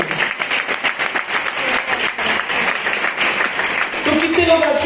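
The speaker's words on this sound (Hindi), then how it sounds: "आइए उस खुदा के लिए जोरदार ताली बजाएंगे।" A church congregation claps loudly together during a Hindi-language worship service, a dense, steady wash of applause running the whole time, with a voice calling out briefly near the end.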